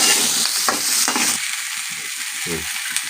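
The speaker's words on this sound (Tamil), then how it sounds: "கொஞ்சம் கலர் மாறிக்கிட்டு நம்ம அது வரைக்கும் நல்லா வதக்கிக்குவோம்" Onions sauté in a pan for a spicy tomato-onion chutney, giving a steady loud sizzle with stirring scrapes through the first second, then a hiss with scattered spatters. No voices.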